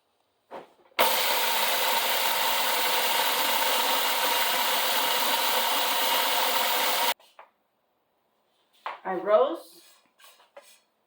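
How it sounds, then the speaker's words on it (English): A blender runs with a loud, steady electric whirring for about six seconds then stops abruptly, followed by brief clinks and a short burst of noise. "When you blend it, it's gonna be loud."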